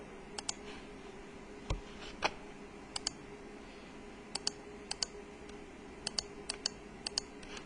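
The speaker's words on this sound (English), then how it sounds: "I'm going to type in my equations there" Keys on a graphing calculator keypad are pressed while equations are entered, giving faint, sparse clicks in small irregular clusters over a quiet room background.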